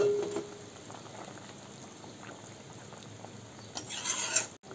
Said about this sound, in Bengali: ঝোল ভালোভাবে ফুটে উঠেছে